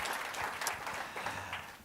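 A round of applause for the catering staff of Dalton House at a leadership conference, a steady wash of clapping from a seated crowd that fills the whole moment at an even level.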